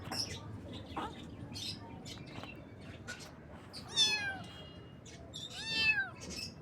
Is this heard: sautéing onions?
no